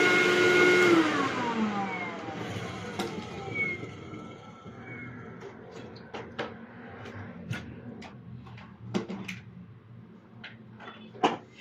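A Hyla water-filter vacuum cleaner motor whines down from a loud hum, its pitch sliding lower. Scattered light clicks and ticks follow as it goes quiet, close by, with no talking.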